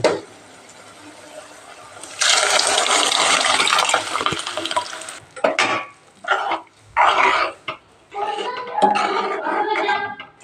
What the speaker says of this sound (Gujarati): તપલાયા મસાલો પાકી ગયો છે આપણે દાળ નાખી દેજો